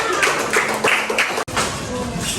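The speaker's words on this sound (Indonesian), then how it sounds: "Tepuk tangan ya temannya." Classmates in a classroom clap after a group presentation, an uneven patter of hands mixed with voices, briefly broken by a short cut before continuing.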